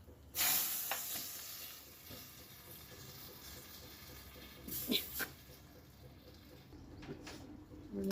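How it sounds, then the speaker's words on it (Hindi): Hot oil crackles and sizzles steadily as mustard seeds, cumin and green chillies are tempered, with a sharp burst of spattering near the start and another flare midway, all close by with no talk. "अब डालबो तड़का ला।"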